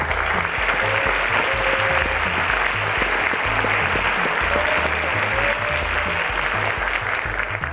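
Audience applause in a televised school quiz show studio as the junior-category teacher of the year is honored, steady dense clapping throughout with faint musical tones underneath.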